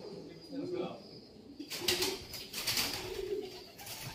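Many racing pigeons coo in a crowded loft, a steady low murmur of calls with some wing flutter, running beneath people talking nearby.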